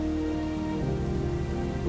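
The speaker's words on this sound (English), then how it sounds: "Rain washes the street." Steady rain washes over a street, a dense even hiss of drops on pavement with a low hum beneath, constant throughout and without voices.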